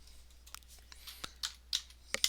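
A few sparse keystrokes tapped on a computer keyboard, close and quiet, with irregular gaps between the clicks against a faint hum.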